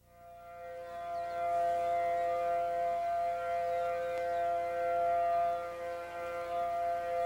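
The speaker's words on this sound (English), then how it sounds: "The island awoke to the wail of civil defense sirens" Civil defense sirens wail steadily on Kauai before Hurricane Iniki in 1992, a loud, sustained tone that swells in over the first second and then holds with slight rises and falls, with no voices.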